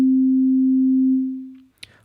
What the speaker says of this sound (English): Right now, just a sine wave.